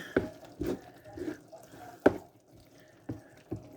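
A spoon stirs homemade deep-dish lasagna sauce in a pot, making a handful of soft, irregular knocks and scrapes against the metal with quiet gaps between them.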